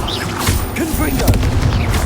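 Confringo fire spell blasts in the Hogwarts Legacy video game, a dense run of loud booming explosions packed close together, with a character's voice shouting spell names over the din.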